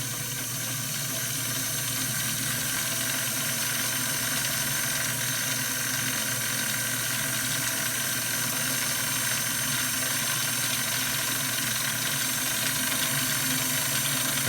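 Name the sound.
Kenmore 1654 sewing machine winding the bobbin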